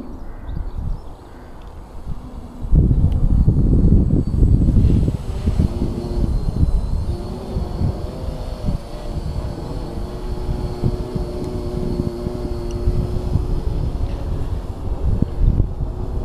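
An RC VTOL model plane hovers and flies during transition testing, its electric motors giving a steady buzzing whine with wind noise that swells loudly after a few seconds and holds through the clip.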